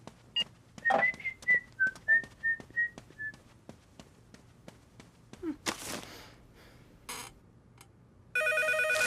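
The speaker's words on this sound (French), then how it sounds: "Téléphone." A telephone rings in a cartoon after a run of whistling and rhythmic thumps; the electronic ring bursts in loud and steady at the very end.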